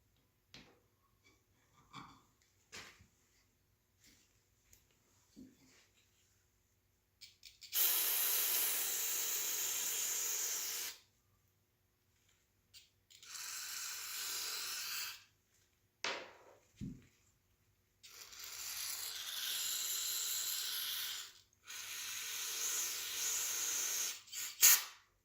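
Carburetor cleaner sprayed into the small ports of a 2012 KLX 140 carburetor: several separate aerosol bursts, close and loud hissing, each lasting a few seconds with quiet gaps and faint handling noises between.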